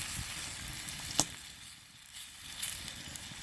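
Philly cheese steak filling of meat and vegetables sizzling in a pan over a campfire, a quiet steady frying hiss with small pops and crackles now and then.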